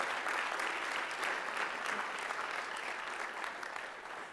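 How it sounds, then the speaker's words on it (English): An audience at a university honors convocation claps steadily, a soft, even wash of applause from a large hall that carries on without a break and tapers slightly at the end. "but she deserves applause."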